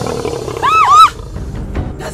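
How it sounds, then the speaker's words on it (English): A lion roars once, a short rising and falling call standing out briefly above a low background rumble before fading. "That's the sound of a lion."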